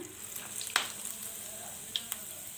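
Curry leaves dropped into hot refined oil sizzle softly and steadily during soya chunks Manchurian preparation, with a few brief clicks and taps of a utensil against the pan, fairly quiet overall.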